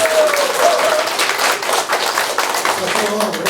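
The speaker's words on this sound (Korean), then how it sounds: "박수 한번 치고 들어가죠" Audience applause at a cooperative's briefing session, a steady wash of clapping from a room of about 300 members, with a voice and some tonal sound running faintly underneath.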